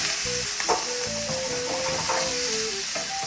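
Shrimp dropped into hot oil and garlic over medium heat for a spicy pasta, sizzling steadily and crackling up close while a pan is stirred, with light background tones and no talking.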